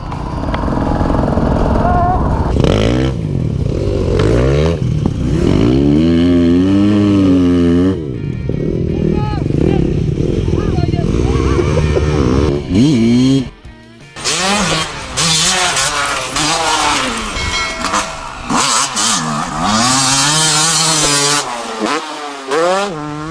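Motocross motorcycles struggle along a muddy road, engines loud and close, revving hard and straining in long bursts, with a second bike taking over partway through under occasional voices.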